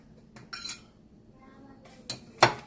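Dry waffle ingredients being whisked in a bowl for homemade buttermilk waffles, heard as a few sparse metallic clinks and taps of the whisk against the bowl, fairly quiet with pauses between strikes.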